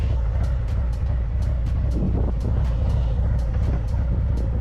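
A Harley-Davidson CVO motorcycle fitted with Trask clutch plates, out on a ride: a steady, deep engine rumble heard close and loud, with faint periodic ticks over the drone.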